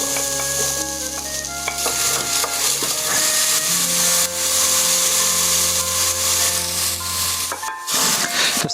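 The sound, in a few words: onions added to olive oil in a saucepan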